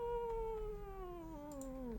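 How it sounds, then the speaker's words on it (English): A cat lets out one long, drawn-out yowl that slides slowly downward in pitch, faint and distant over a low background hum. "That was like an angry cat song."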